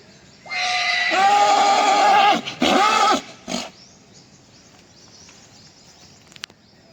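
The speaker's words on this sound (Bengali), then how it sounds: "এই ঘোড়াটা ভালো ঘোড়া" At the Sonpur Mela horse market, a horse lets out one loud, close, drawn-out whinny lasting about three seconds, with a shorter snort after it, before quiet outdoor ambience returns.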